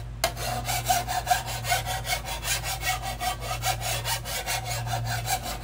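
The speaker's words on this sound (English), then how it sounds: "I just do the underside, and all you do is just use that file." A flat bastard file is worked along the underside of a steel shovel blade to sharpen it, giving a steady series of close, rhythmic rasping strokes with no talk.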